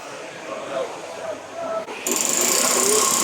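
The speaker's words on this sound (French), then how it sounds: "Mais regarde-moi ça, les marteaux-pics" Milwaukee cordless battery jackhammer fitted with a dust extractor running at a trade show in Rome, a loud rapid hammering buzz that kicks in partway through over crowd noise and people talking.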